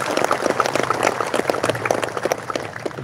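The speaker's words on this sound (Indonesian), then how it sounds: "Tepuk tangan untuk Kota Bima." Audience applause at a gathering in Bima city during a visit by the governor of NTB, a dense, steady patter of clapping hands filling the room throughout.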